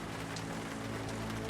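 Rain falls steadily, a faint even hiss of drops on a surface that holds constant through the short stretch, with no voices.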